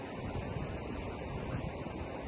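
Ocean surf at the point where a river meets the sea, a steady broadband wash of waves with heavy wind buffeting the microphone, no voices.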